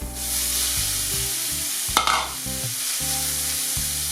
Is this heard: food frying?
yes